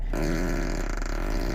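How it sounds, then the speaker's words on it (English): A 2016 Tesla Model S plays its novelty fart sound from the car's speakers, one short, low, sputtering flatulent blast, played alone in the cabin at moderate volume. "It has a fart mode, right?"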